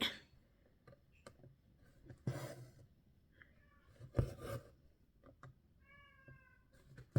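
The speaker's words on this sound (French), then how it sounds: "Non, c'est le chat qui râle." A house cat meowing and grumbling indoors, a few short complaining meows spread among quiet rustling and scraping noises, close and fairly soft, with one longer wavering cry near the end.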